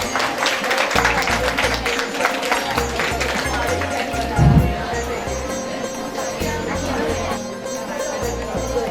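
Audience applause at a mehndi competition prize ceremony, a crowd clapping steadily over a thumping rhythmic music beat with some background chatter.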